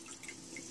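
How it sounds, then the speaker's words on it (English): A faint, steady wash of fizzing liquid from a home science experiment, with tiny pops scattered through the soft bubbling and no voices. "it's still bubbling a little bit"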